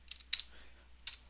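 Computer keyboard keys tapped a few times, with three or four faint, crisp clicks spaced irregularly over a quiet background.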